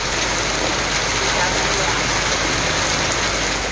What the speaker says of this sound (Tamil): புதுச்சேரியில் கிழக்கு கடற்கரை சாலை நைனார் மண்டபம் மூலக்குளம் பாகூர் உள்ளிட்ட இடங்களில் இடியுடன் கனமழை பெய்தது